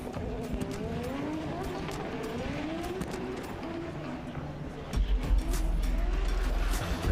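A drift car roars through a wall ride during a professional drifting competition qualifying at Baypark, its engine wailing with shifting pitch over tire noise, then a heavier low rumble near the end.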